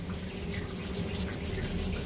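Water runs steadily from a tap into a sink, a continuous, even splashing hiss at moderate distance with no talking.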